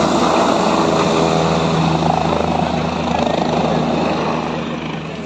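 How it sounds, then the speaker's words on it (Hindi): A helicopter at the Kedarnath helipad in the mountains, its loud rotor and engine roar filling the air close by and slowly fading toward the end, with no talking. "यहाँ पर हेलीकॉप्टर वगैरह उतरते हैं"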